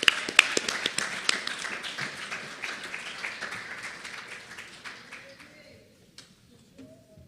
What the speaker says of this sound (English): Let us give a warm round of applause for Remy Gomes.